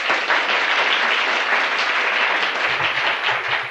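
A studio audience applauds, a dense steady wash of clapping that holds evenly for a few seconds without letting up.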